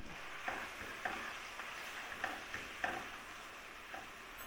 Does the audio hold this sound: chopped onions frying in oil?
yes